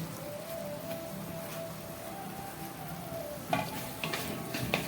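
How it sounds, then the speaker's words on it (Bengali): Vegetables tipped into a pan of spice paste that has been fried down for a home-style vegetable dal, a steady sizzle with a faint tone, then clattering stir noises as the pieces land and are mixed in. "এখন সবজিটা দিয়ে দেব।"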